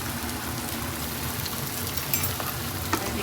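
Jackfruit curry with cumin powder frying in a pan, giving a steady, fairly quiet sizzle that hisses evenly throughout, with a couple of small pops and no voices.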